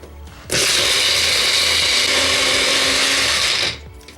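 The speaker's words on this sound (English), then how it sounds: "our recipe by grinding cashew nuts. 1 cup of cashew nuts." A blender grinds one cup of cashew nuts, a loud, steady whirring roar that starts abruptly, holds for about three seconds, then cuts off.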